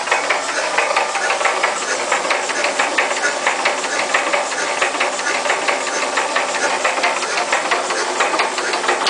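A Listeroid diesel engine being cranked over by an electric starter, a steady whirring, ratcheting hiss with rapid mechanical ticking that holds constant throughout.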